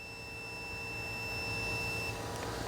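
A multimeter in continuity mode on a good fuse gives a faint, steady high-pitched beep that holds for about two seconds over a noisy background hum.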